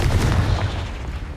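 A Confringo fire spell explodes in Hogwarts Legacy, giving a loud, close, rumbling blast with a fiery crackle that fades over about a second.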